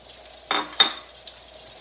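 Rinsed, drained canned chickpeas tipped into a pan with fish, two quick clattering splashes followed by a lighter clink of a utensil, close and brief, with no talking.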